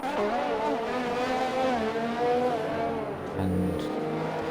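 Race car engines, among them a Ferrari, whine continuously in a racing game at the Hungary circuit, the pitch rising and falling as the cars accelerate and shift, with a faint voice underneath.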